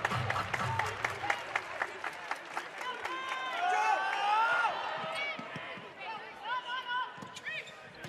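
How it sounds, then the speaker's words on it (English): Volleyball arena crowd at a pro MLV match clapping in a steady rhythmic beat, then a broader swell of crowd noise rises as a commentator talks over it. "Everybody clap your hands."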